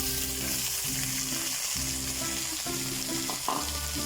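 Chopped beetroot and green chillies fry in a pan with a loud, continuous sizzle, broken by a few stirring scrapes, close and steady without any talking.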